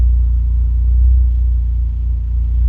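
The DSM car's engine idles while stationary, a loud, steady low-pitched rumble with a faint pulsing throb and no other sounds over it.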